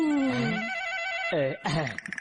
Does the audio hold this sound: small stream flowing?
no